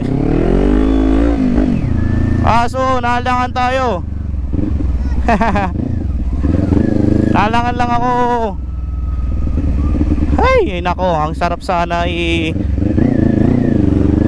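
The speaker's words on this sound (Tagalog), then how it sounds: "Dapat i-test drive itong Kawasaki 400, no?" A Kawasaki 400cc big bike engine runs steadily through a test ride, its drone rising and falling with revs, while someone talks loudly over it throughout.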